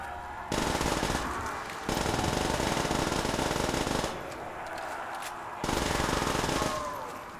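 Sustained machine gun fire in the Custom Zombies video game on the Quarry map: long, loud, rapid bursts separated by brief gaps, dense and close throughout.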